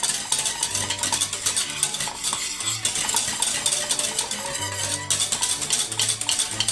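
A spoon stirs coconut custard cooking in a saucepan, scraping and clinking against the metal pan in an irregular rhythm, with a faint sizzle of heat beneath.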